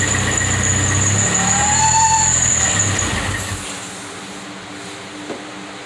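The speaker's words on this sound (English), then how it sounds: "Just gonna let it idle." A Saturn SW2 car engine with 269,000 miles on it, on its first startup after a rebuild, idles with a steady, droning rumble and a faint whine, then cuts out partway through, leaving a quiet hum.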